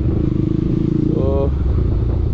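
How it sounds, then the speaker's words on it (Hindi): Loud, throaty Bajaj Pulsar 200NS motorcycle engine with its muffler removed, idling close by with a raw, unmuffled rumble, a voice briefly speaking over it. "साउंड सुनो कितनी लाउड है मैंने इसका मफलर निकाल दिया"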